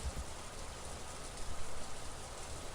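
Rain falling over a rose garden in a visual novel scene, a steady soft patter of drops on surfaces, continuous and fairly faint, with no voices.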